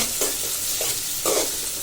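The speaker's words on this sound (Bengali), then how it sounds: "পালং শাক ভাজি করার জন্য আমি পেঁয়াজ রসুন তেলে ভেজে নিচ্ছি।" Chopped onion and garlic fry in hot oil in a pan, a steady soft sizzle broken by several quick scraping stirs close by, with no talking.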